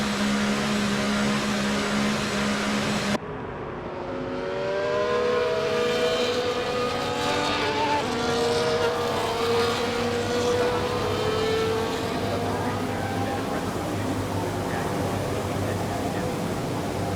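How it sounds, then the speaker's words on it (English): Race car engines idling and revving on the starting grid of a wet Dutch Grand Prix in the F1 24 video game, a continuous layered drone of several cars held steady at close range. "Cars come back to the grid to line up for the start of the race"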